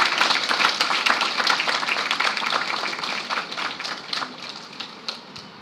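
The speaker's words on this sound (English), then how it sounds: "May we have a huge round of applause for the same." Audience applause greeting the official release of a book at an international multidisciplinary research conference's valedictory session: a dense round of clapping that runs steadily, then thins and tapers toward the end.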